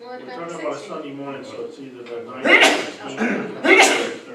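Two sharp, loud sneezes burst out about a second apart during a zoning board meeting, breaking through ongoing conversation about scheduling dates.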